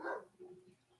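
Dogs barking somewhere in a home, one short sharp bark followed by softer yips and whimpers, fairly faint and distant.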